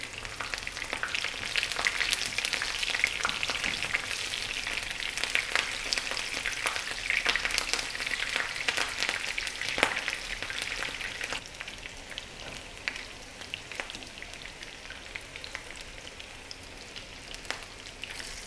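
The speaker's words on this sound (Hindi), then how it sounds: "जब तक कबाब फ्राई होते हैं साथ ही हम हरी मिर्च फ्राई कर लेते हैं।" Potato chapli kebabs and slit green chilies fry in hot oil, a steady close crackling sizzle with scattered pops that eases slightly toward the end, with no voices.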